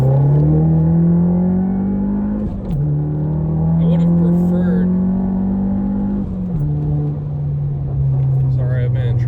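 A Nissan B14 fitted with SuperPro lower control arms is driven hard on the road. The close engine drone climbs steadily through the gears, with two brief dips at the shifts, under occasional speech.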